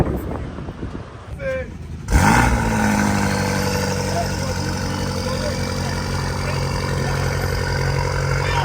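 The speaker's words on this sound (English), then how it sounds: "Hear the turbos." A turbocharged Honda Accord 2.0T engine starts up and settles into a loud, steady idle with a rough mechanical hum and a faint turbo whine, heard up close for several seconds after a brief quieter stretch.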